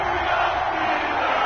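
A stadium crowd at an NFL game at Heinz Field, Chiefs versus Steelers, roars in a steady, dense wall of cheering just before kickoff, loud and continuous throughout.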